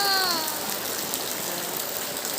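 Heavy rain pours steadily on an open outdoor scene, a dense continuous hiss that swells and eases slightly, with a faint tonal trace early on and no talk.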